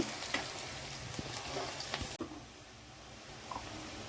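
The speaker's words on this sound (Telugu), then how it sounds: "ఉల్లిపాయలు అయితే ఎర్రగా వేగిపోయినాయి" Chopped onions fry in oil until browned, making a soft, even sizzle at low level with a few faint pops and one brief dropout.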